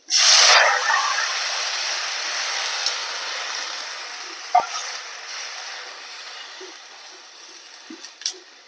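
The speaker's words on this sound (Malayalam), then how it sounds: "ഇനി നമുക്ക് വെള്ളം ഒഴിച്ചു കൊടുക്കുക" Water poured into a hot pan bursts into a loud, sharp hiss that settles into a steady sizzle, close by, with a few faint clicks of the pan toward the end.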